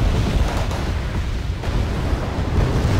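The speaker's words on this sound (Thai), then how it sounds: "โดนนาปาล์มลงครับ" Napalm strike in the war game Wargame: Red Dragon, heard as a continuous loud roaring rumble of fire and blast noise, heavy in the low end, sustained without pause for about three seconds.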